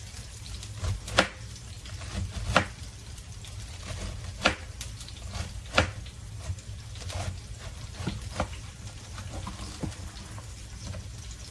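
Knife finely chopping and shredding cabbage on a board, irregular sharp cuts with some louder strikes over a low steady hum, no talk.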